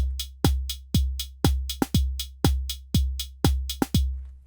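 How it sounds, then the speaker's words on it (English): Drum machine beat from an Elektron Model:Cycles or Model:Samples: steady sharp percussive hits over a sustained low bass tone, with an extra snare hit squeezed in just before each bar repeats on step 16, loud and alone. "we're going to add an extra one right on step 16 here"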